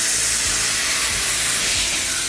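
Chopped tomatoes hit a hot pan of onions and minced mutton for Madurai kari dosa, throwing up a loud, steady sizzling hiss that continues without a break.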